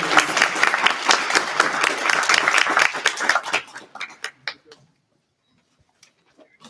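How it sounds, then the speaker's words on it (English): Audience applause at a student government election debate: dense clapping from a crowd fills the first three and a half seconds, then thins into a few scattered claps before near silence. "Please give one final round of applause for both our"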